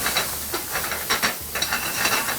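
Fennel seeds and shallots dropped into hot oil give a bright, hissing sizzle with bursts of spitting, close up and steady for a couple of seconds, with no voices.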